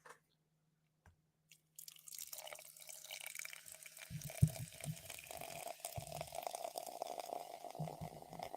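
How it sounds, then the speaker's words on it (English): Coca-Cola Zero Sugar poured over ice, with a close, steady fizzing hiss and faint clinks that start after a short quiet moment and continue to the end. "And I'm going to pour."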